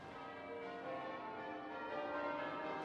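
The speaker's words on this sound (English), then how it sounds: "You can hear the church bells ringing here at Southwark Cathedral" Rich, ringing church bells of Southwark Cathedral in London with layered overlapping tones sound continuously, faint and distant, blending into a steady resonant wash.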